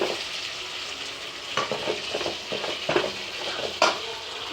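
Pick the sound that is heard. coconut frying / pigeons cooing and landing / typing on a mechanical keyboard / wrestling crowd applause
coconut frying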